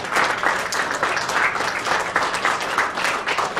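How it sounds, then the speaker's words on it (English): Audience applause for a person called up at a live event, a dense continuous wash of many hands clapping, steady and fairly loud throughout with no voices rising above it. "Can everybody please give Dior a big round of applause?"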